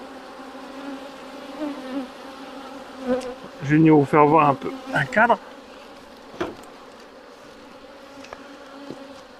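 Black honey bees hum steadily around an opened hive while someone speaks French briefly in the middle; the buzzing stays as a low, continuous drone behind and after the talk.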